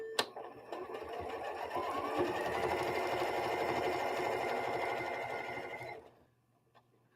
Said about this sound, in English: I'm going to put the machine back onto the center position. And when I sew, I'll start this side